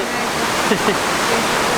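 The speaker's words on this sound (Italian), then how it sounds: "non so cosa si sente perché c'è super cascata qua" The Cascata della Soffia waterfall near Lago del Mis, running with unusually little water, pours out a loud, steady, close rushing roar that fills the whole moment.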